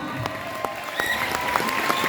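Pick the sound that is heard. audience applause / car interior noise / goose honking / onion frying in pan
audience applause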